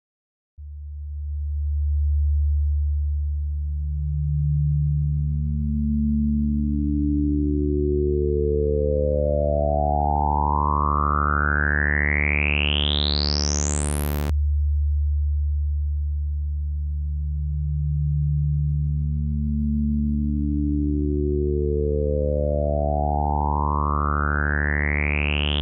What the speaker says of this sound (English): automation is best noticeable with a cutoff automation with high resonance